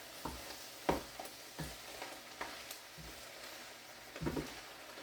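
Leftovers frying in a pan, a low sizzle under repeated scraping and stirring strokes of a utensil at an uneven rhythm, close and fairly quiet.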